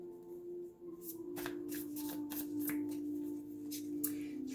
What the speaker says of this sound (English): That was a crappy shuffle.